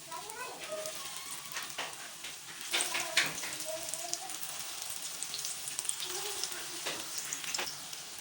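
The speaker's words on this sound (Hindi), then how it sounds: "मैं इसमें शामी कबाबों को तल लूँगी।" Beef shami kebabs fry in hot oil in a frying pan, a soft, continuous sizzle dotted with small crackling pops, close but fairly quiet.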